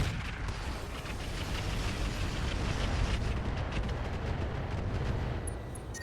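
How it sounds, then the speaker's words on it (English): Heavy mech weapons pounding a Maelstrom mech in the RogueTech BattleTech mod, a dense, continuous barrage of booming impacts and rumbling explosions sustained at steady loudness throughout. "we're going to fire on this Maelstrom"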